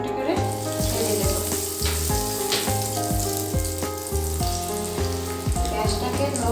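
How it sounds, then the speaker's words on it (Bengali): Fish cutlets frying in hot oil, a continuous loud sizzle close by with crackling spatters, under steady background music. "এখন এবার আমি এগুলো তেলে ভেজে নেব"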